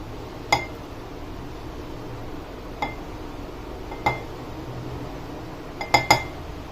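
Mango pulp is spooned into a bowl, with a few sharp, ringing clinks of utensil against the dish spaced irregularly, two coming close together near the end, over a quiet background.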